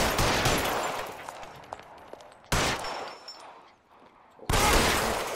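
Gunfire in the video game L.A. Noire comes in dense, harsh bursts, with two sharp loud onsets after brief quieter gaps, close and loud throughout.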